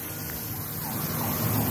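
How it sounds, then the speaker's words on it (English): An ambulance siren wails faintly in the distance, rising and falling over steady traffic noise outside a Chevrolet dealership. "Here comes an ambulance."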